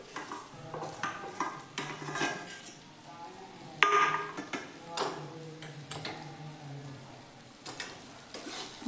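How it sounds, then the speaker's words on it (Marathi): Masala being stirred into ridge gourd stuffed and fried in oil, with repeated scraping and clinking of a spoon against the pan, a soft sizzle underneath, and a sharper knock partway through. "दोडक्यांमध्ये मिक्स करून घेऊयात बघा सगळं।"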